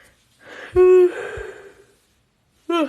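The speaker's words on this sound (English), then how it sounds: "Sorry, I'm like yawning." A person yawns during a live stream about sublimation printer maintenance, a drawn-out breathy vocal exhale with a tonal middle, followed later by the start of another similar yawn, close up and alone.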